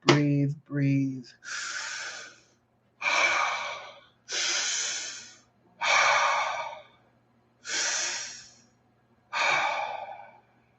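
Slow, deep breaths during a guided meditation: a few quick gasping inhales, then six long, airy exhale-like breaths spaced at an even, unhurried rhythm, close and clear against a quiet background.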